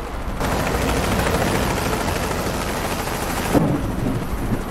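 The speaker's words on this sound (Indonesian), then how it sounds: "Berisik banget itu helikopternya." A loud, steady rotor drone of a helicopter in Euro Truck Simulator 2 dominates, with a dense rumbling texture and a brief sharp burst near the end.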